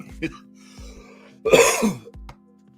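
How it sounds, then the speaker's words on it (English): A single harsh cough bursts out midway, close and loud, amid quiet room noise and a few soft clicks. "that cough is going to be annoying"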